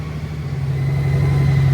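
Honda motorcycle engine idling steadily, a low even hum close by, growing slightly louder, with no talk over it.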